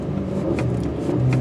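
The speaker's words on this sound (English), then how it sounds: "I'm gonna rev it just a little bit. Kind of do a basic takeoff." A 2014 Volkswagen CC R-Line's turbocharged engine holds a steady, close rev of about 3,000 RPM before takeoff, a continuous droning hum with slight pitch wavering and no talk.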